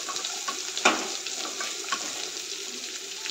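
Cashew nuts and raisins fry in a pan with a continuous light hissing sizzle, punctuated by one sharper clink and a few faint pops.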